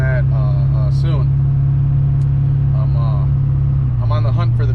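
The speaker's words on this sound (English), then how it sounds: "Sorry if the truck's a little loud" A truck engine drones steadily and loudly while driving, a constant low rumble under a person talking over it throughout.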